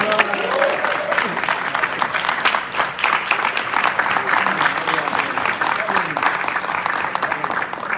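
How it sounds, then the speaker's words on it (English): An audience applauds the mayor-elect of New York City at a gathering of imams and clergy members in Brooklyn, with steady, dense clapping that runs the whole time at close range and a voice or two faintly underneath. "We just got one more round of applause for our mayor-elect, Eric Adams"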